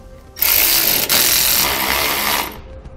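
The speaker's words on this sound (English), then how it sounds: "Then use a 13 millimeter socket to thread it in." A 13 mm socket on a power tool threads a screw into the spring perch on a 2017 Ford axle during an Air Lift LoadLifter 5000 air helper spring install, giving a loud, steady whirring run of about two seconds with a brief dip midway.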